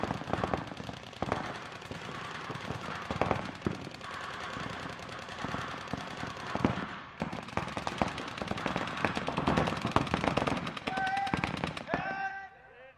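Paintball markers fire throughout a match in rapid, dense volleys of pops, near and far, with shouting voices mixed in and a whistle-like tone near the end.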